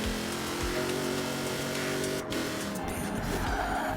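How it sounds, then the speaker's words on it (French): A Ford Mustang GT500 drifting in a racing video game, its engine droning steadily while tyres squeal and skid continuously, loud and close, with brief breaks in the screech. "Elle drift vraiment très bien, je trouve."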